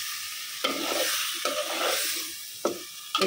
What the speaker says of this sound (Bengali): আর এক পাশে এই যে কী বলে আলুটা একটু কষায়া এখন টমেটোটা দিয়ে দিচ্ছি